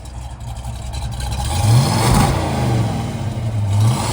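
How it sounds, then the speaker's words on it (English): A 1971 Ford Mustang Boss 351 V8 revs up close with a throaty exhaust, rising in a couple of swells over a rough idle with no talk. "We'll give it a few revs. As you can see, sounds good."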